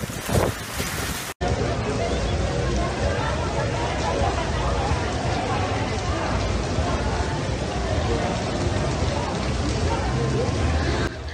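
Steady heavy rain pours down on Las Vegas during flash flooding in a dense, continuous hiss with a low rumble, preceded by a brief burst of different noise at the start.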